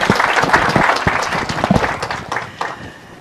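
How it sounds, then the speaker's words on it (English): An audience in a conference hall applauds Ms. Sandra Fry and her team, dense sustained clapping from many hands that gradually thins and fades toward the end. "let's give a round of applause again for Ms. Sandra Fry and her amazing team"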